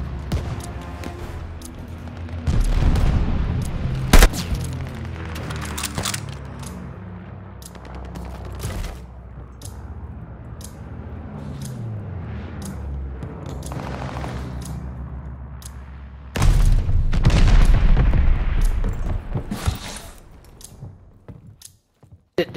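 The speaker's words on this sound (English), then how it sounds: "Friendly bombing run inbound." Bombing run explosions in the Call of Duty: Vanguard Search and Destroy mode, heavy booming blasts and gunfire that swell loudly, fade into sustained rumble, then surge again near the end.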